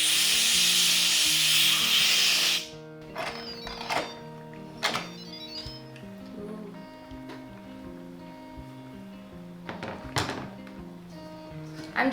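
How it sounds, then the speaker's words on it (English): Steam hisses loudly from a pressure cooker holding pumpkin, a dense burst for about two and a half seconds before cutting off, followed by quieter knocks and clatter of handling. "I'm just carefully going to release the steam."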